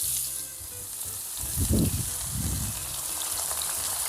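Onions frying in coconut oil in a pan, a continuous bright sizzle with a couple of louder stirring scrapes in the middle, close by.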